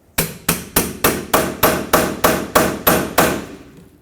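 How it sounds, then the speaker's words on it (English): Hammer repeatedly tapping a chisel wedged between a rubber shock bushing and washer on a 2006-2010 Hyundai Sonata front shock mount; eleven sharp metallic strikes in steady rhythm, close and loud, with no talk. "just take a pry bar or chisel, get it right in between the rubber bushing and the washer, and tap it in with a hammer"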